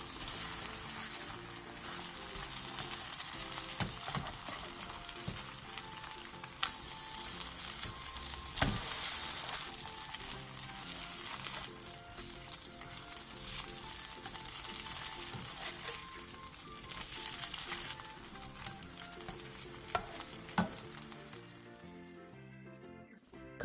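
Beef and napa cabbage pancakes pan-frying until golden, a steady soft sizzle and crackle of oil with occasional scrapes, quiet and continuous with no talking.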